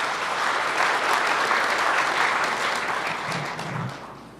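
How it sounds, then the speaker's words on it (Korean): An audience at a Labor Day ceremony gives a sustained round of applause, a dense wash of clapping that holds steady and then slowly tapers off. "여러분 다시 한번 박수 부탁드립니다"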